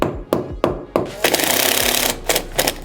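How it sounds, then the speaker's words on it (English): A power drill in chisel mode chips the last bit out of a wall chase: a few sharp separate knocks, then about a second of continuous rapid hammering, then more scattered hits. "I can just take this last bit out with the chisel function on my drill"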